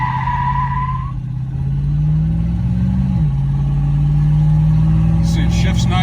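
A 1979 Magnum GT accelerates on a flat road, its engine drone climbing steadily in pitch before dipping at a gear shift and pulling again, loud and close with a voice briefly heard.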